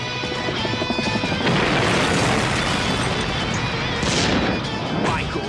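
Cinematic movie explosions in the style of Michael Bay action films, a dense, loud wall of booms and crashes with bursts of debris and blasts layered throughout.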